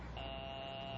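A steady electric telephone ring plays as a sound effect in an old-time radio drama, one continuous tone held for about a second at moderate level with no talk.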